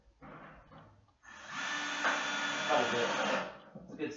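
Screws are driven into a raised garden bed: a brief burst of whirring, then a steady, close, fairly loud motor run lasting about two seconds before it stops.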